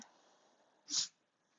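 A single short, sharp sneeze stands out against a quiet, near-silent background.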